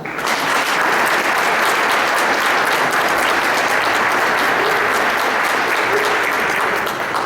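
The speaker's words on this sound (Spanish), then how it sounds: "a quien también le damos un fuerte aplauso." Sustained, loud applause from a conference audience on the right to have emotions, a dense wash of clapping at steady volume with no voices standing out.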